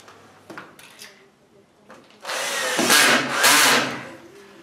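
A power screwdriver drives fasteners for clips that hold corrugated conduit: a few soft knocks and handling sounds lead into a loud whirring burst of about two seconds, close by.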